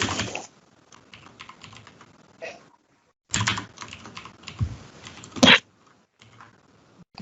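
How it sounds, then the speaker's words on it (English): Computer keyboard typing comes in quick bursts of close, crisp key clicks separated by short silences, with one sharper clack near the end. "Yes, type just 2 lines, just so we can see what it will look like."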